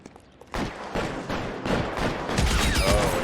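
Gunfire in a police video game, a burst of sharp shots opening after a moment of quiet and echoing into a loud, sustained rumble of game effects.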